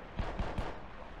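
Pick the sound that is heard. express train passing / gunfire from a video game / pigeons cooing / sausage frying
gunfire from a video game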